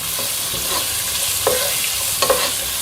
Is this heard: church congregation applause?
no